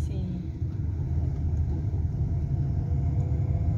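Car engine rumbling steadily inside a moving car during a driving lesson, a continuous low drone at even loudness throughout with no clear break for the gear change.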